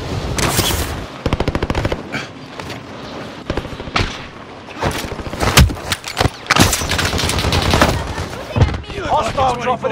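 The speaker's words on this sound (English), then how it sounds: "I'm under fire!" Rapid machine gun bursts ring out in Call of Duty: Modern Warfare, loud and close, with sharp repeated volleys separated by brief pauses, some thuds and a voice speaking amid the firing.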